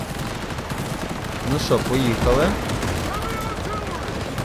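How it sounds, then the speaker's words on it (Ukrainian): Gunfire between enemies in the video game Cyberpunk 2077 Phantom Liberty, with dense rapid shots crackling steadily throughout under a man's speech. "Вони стріляються між собою"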